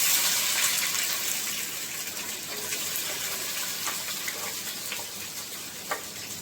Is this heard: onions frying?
yes